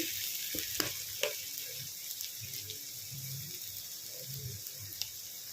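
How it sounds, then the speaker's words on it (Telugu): Ginger garlic paste sizzles with onions in a hot pan for an egg tomato curry, a steady close frying hiss with a few stirring clicks and clatters and no talk. "ఇప్పుడు ఇందులో 1 టీ స్పూన్ అల్లం వెల్లుల్లి పేస్ట్ వేసుకున్నాము."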